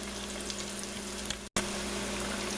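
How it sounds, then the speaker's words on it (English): Cricket-coated pickles deep frying in hot oil make a dense, even crackling sizzle, close and continuous, with a brief cut partway through. "Gonna let those fry up for a couple of minutes."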